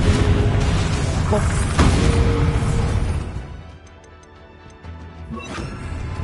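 A Confringo fire-blast spell explodes in the video game Hogwarts Legacy, a loud crashing burst with debris and rumble, followed by a quieter stretch and a few small pops and ticks.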